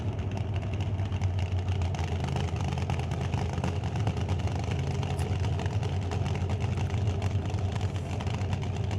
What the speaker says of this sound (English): as the motor's idling along there with no load on it